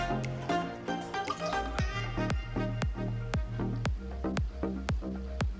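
Milk is poured into a pineapple mixture for Samoan pineapple pie, giving a short wet splash followed by a run of distinct, evenly spaced drips that slow and fade.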